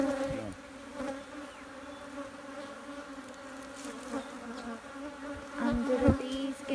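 Honeybees buzzing steadily around an opened hive during a novice's hive split, a continuous droning hum close to the microphone that swells a little louder near the end.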